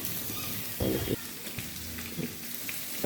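Prawn heads frying in a pan, a soft continuous sizzle with a couple of brief louder bursts of crackle as they are turned, with faint talk in the background.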